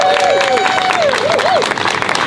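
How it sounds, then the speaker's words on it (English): Outdoor crowd applause and cheering at a Haudenosaunee flag raising over Buffalo City Hall, loud and dense, with a sliding whistle or high vocal tone running through it. "Let's give them a round of applause"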